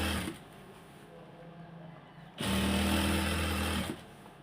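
Sewing machine running a narrow hem on salwar trouser cuffs, a steady motor hum in two bursts: a softer run, a pause, then a louder, denser stretch of close-up stitching.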